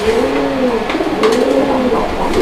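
A pair of domestic pigeons coo in soft, low rolling calls, repeating a few times close by over a steady background hum.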